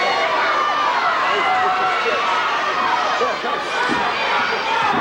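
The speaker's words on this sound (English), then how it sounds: "listen to the crowd" Wrestling arena crowd roaring and cheering continuously and loudly during a Kevin Von Erich versus Gordy bout, a dense wash of shouting voices with no single caller standing out.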